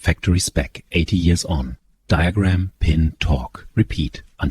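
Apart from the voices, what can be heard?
None of the usual background noises is heard.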